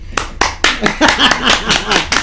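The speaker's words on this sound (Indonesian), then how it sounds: "Kita tepuk tangan dulu ini." A small group claps hands in a podcast studio, about ten sharp, close, separate claps over two seconds, with voices talking briefly between them.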